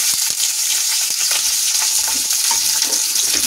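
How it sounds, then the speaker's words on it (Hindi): Chopped onions sizzling in hot oil in a kadai, a steady, loud hiss with scattered pops and crackles throughout, no voices. "इन्हें थोड़ा सा फ्राई कर लूंगी मैं प्याज को।"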